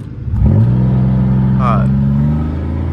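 A Pontiac Grand Prix GT engine revs up loud and close, its droning pitch rising and then holding while someone talks over it.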